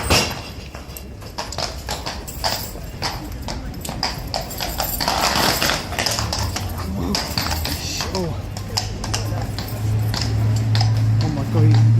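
Rapid hoof clip-clops from a royal guard's horse struggling to regain its footing, busy and uneven, with voices talking over them and a low rumble growing toward the end.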